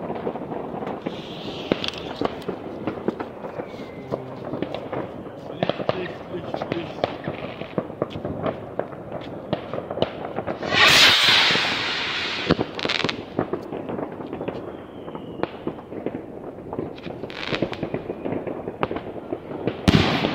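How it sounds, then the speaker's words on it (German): A firework rocket whooshes up and bursts with a sharp bang amid a long string of crackling firecracker pops at New Year, people talking loudly throughout. "Das war eine Rakete mit Schuss."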